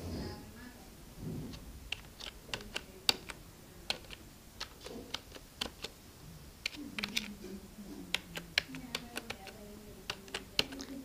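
Scattered keystrokes on a computer keyboard while text is entered in MS Word, faint and uneven, coming under a woman's quiet speech.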